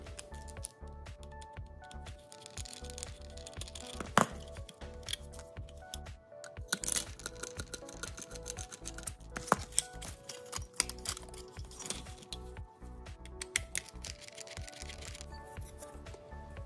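Labels being peeled back from a power supply casing during disassembly give a faint, steady crackle of small ticks and scratchy rustles, quiet and close, with no voices.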